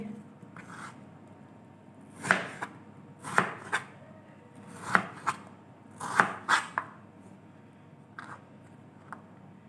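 A knife chops potatoes on a board for kurkure fries, with about a dozen crisp, close cuts falling in irregular clusters and short pauses between them.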